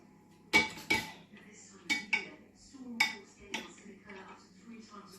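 A utensil knocking against a bowl while brown bread dough with yeast is mixed: several sharp, close clinks in an irregular rhythm, with softer scraping between them.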